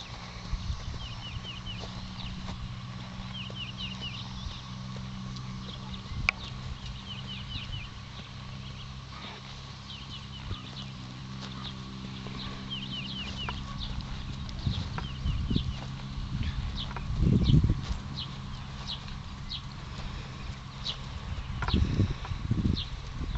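Soft hoof clops of horses walking in a grassy pasture, with chickens clucking and birds chirping in the background; fairly quiet and outdoors.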